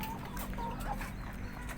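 Laying hens clucking steadily at close range in a poultry house, a dense continuous murmur of overlapping clucks under a constant low mechanical hum.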